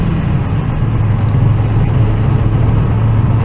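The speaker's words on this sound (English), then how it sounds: "y'all hear that new turbo open up?" A pickup truck engine fitted with a new turbo drones steadily and loudly, a continuous deep rumble with a low hum running through it and no clear rise in pitch.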